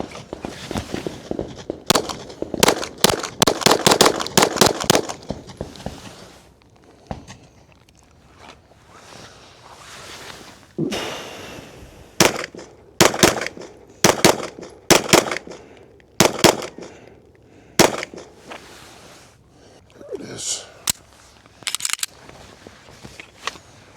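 Gunshots at a shooting range, sharp loud reports in rapid strings and spaced groups, close by, with quieter handling and shuffling between volleys.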